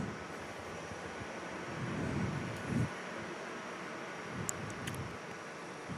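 A Jetstar airliner arriving at Perth airport, heard as a steady, fairly distant broadband engine roar with a slight swell midway and no talk.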